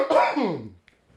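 A single rough, raspy cough from a man, loud and close, breaking into a couple of harsh bursts before trailing off into quiet.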